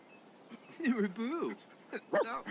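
A small dog whimpers in The Sims 4, with a few soft whines and yips rising and falling in short bursts, fairly close and a little faint, over a quiet game background.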